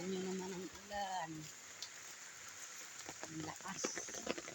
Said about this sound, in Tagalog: Grabing ulan dito sa amin guys.